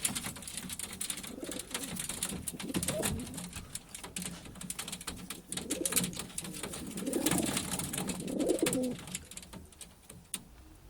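Pigeons in a loft, including long-distance racing birds, give soft repeated coos over a constant busy background of rustling and scratching, moderately close with no talk.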